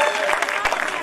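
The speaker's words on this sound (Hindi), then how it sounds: "जोरदार तालियां" Loud, dense applause from a Ramlila crowd at Azadpur, a short continuous burst of clapping close by with no pauses.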